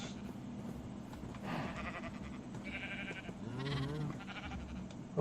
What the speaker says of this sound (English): The sheep have a purpose.